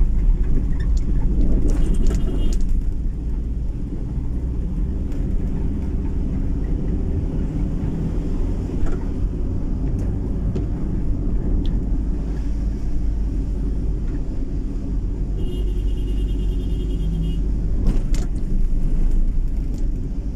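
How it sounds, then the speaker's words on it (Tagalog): Steady night traffic on a bridge in Cebu City, Philippines: a continuous, fairly loud rumble of passing cars with occasional louder vehicle swells and no speech over the twenty seconds. "Dami pa rin sasakyan."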